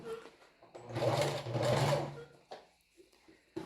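Sewing machine stitching a swimmer-style bra, running in two steady bursts of close, continuous whirring with short pauses and a few soft handling clicks between.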